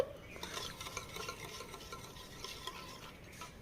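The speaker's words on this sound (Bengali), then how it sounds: "আস্তে আস্তে নাড়া দাও আব্বু" Sugar stirred and melting in a pan for a homemade cake, a steady soft scraping and light sizzle with faint utensil clinks, moderately close and without talk.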